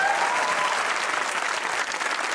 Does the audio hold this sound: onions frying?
no